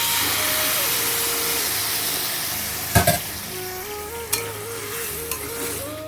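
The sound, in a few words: water added to a sizzling egg and potato curry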